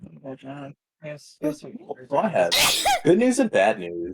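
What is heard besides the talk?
sneeze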